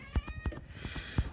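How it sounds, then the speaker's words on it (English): A pet cat gives a thin, wavering meow that rises and bends, faint and somewhat distant, over soft irregular low thumps and room noise, with no speech. "That's my cat singing."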